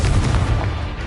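A Confringo fire spell in the video game Hogwarts Legacy on PS5 erupts as a loud, close explosive blast, a dense, rumbling burst that fills the short moment.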